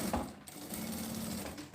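Sewing machine stitching a seam across fabric with the stitch length set to 3.5, a steady close whir with an even motor hum running the full length, alone without talk.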